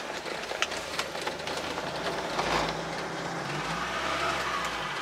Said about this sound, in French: Alors ça fait le bruit d'une voiture, mais en même temps on entend bien le moteur.